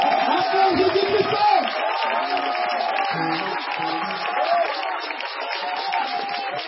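A church congregation cheers and applauds steadily, a continuous wash of clapping and crowd voices, while a person speaks over it.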